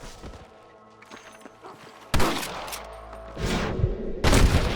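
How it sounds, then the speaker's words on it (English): Several sharp gunshot blasts in the Red Dead Redemption video game soundscape, first scattered and faint, then loud bursts around the midpoint and again near the end. "More gunshots."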